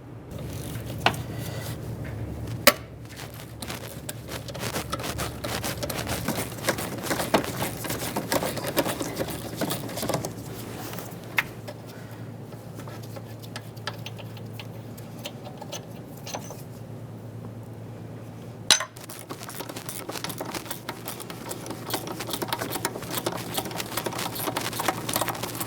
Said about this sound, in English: We're going to remove both of the bolts.